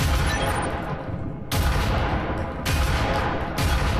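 An automatic shotgun fires in the VR shooter Breachers, a few heavy blasts spaced about a second apart, each with a long loud rumbling tail, close and alone with no talk.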